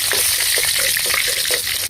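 Cumin seeds, dried red chilli and bay leaf crackle and sizzle in hot oil, a dense, loud, continuous frying hiss with small spattering pops, close up and without talk.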